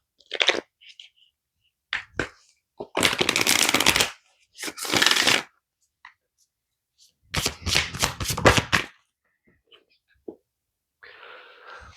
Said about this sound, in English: Let's pull the Moonology card and let's see what Spirit would like you all to know.